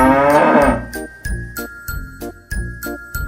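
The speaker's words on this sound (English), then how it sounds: "How does a cow sound?" A cartoon-style cow moos once in a long, loud tone, followed by a steady run of bright jingling chimes at an even beat.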